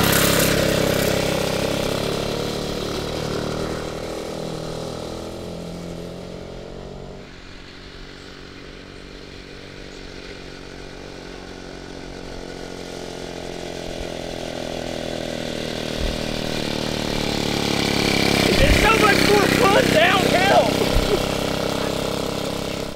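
A mini bike powered by a 2HP two-stroke washing machine engine runs with a steady buzzing drone, close and fairly loud, dipping midway then rising into a harsher rev near the end, with people talking alongside.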